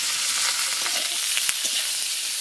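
Potatoes and bitter gourd frying in hot oil seasoned with salt and turmeric, a steady close sizzle with brief stirring clatter and no talking.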